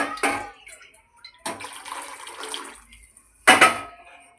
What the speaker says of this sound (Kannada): ಸ್ವಲ್ಪ ನಾನು ನೀರನ್ನು ಸ್ವಲ್ಪ ಆ್ಯಡ್ ಮಾಡ್ಕೊತೀನಿ